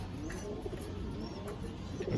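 Pigeons in a loft of white-tailed birds, among them a young green-toned bird, give low cooing sounds with a few faint chirps over a steady, close background murmur.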